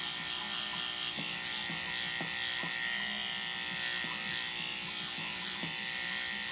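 Electric clippers buzz in a steady, close drone while shaving down a powder puff Chinese crested dog, with faint regular clicks and ticks as the blade passes through the coat.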